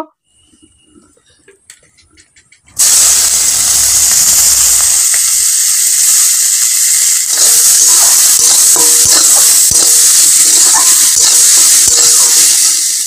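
Mustard oil hits a hot wok after a quiet moment with a few faint clinks, then a loud, steady sizzle and hiss carries on close up for the rest of the clip.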